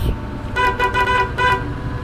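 Stop-signal tones on a Setra city bus in Bus Simulator 18, driving German streets: a few short, bright repeated beeps sound over the steady low rumble of the engine.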